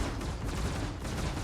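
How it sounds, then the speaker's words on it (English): Ship-mounted distortion cannons firing in Star Citizen, a steady heavy barrage of rumbling discharges filling the whole moment with no voices over it. "Now here is the distortion cannons. First, let's use only distortion cannons."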